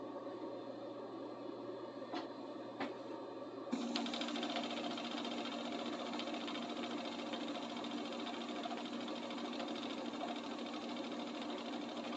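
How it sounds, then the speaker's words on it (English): A sewing machine runs steadily while stitching a waistband, a faint continuous mechanical whir starting after a few quiet seconds and holding an even drone with no talking. "we can hop over to the other machine and start stitching them"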